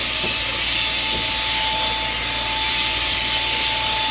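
A GeeMo G201 cordless 4-in-1 vacuum cleaner runs on low speed with its brush bristles spinning, a steady, even whine and airy hiss that continues unbroken and close throughout.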